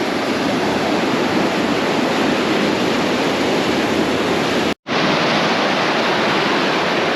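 Water rushes out of a busted dam into a 9-acre pond, a loud, continuous roaring torrent like a waterfall, steady throughout apart from one brief dropout.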